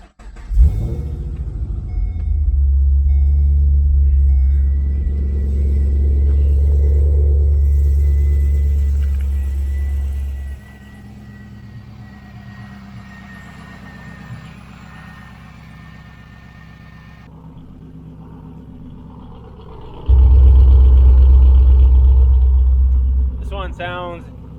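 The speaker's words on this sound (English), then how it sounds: "Let's go ahead, fire each of them up to see if either of them has a cam." Wrecked Pontiac G8 GT V8 engine starting and idling in a shop, a loud deep rumbling idle that drops away, then fires up again near the end, with people talking over it.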